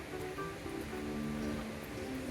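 A powerful waterfall in a hidden wooded glen gives a steady, dense rushing roar that fills the short moment evenly, with no talking.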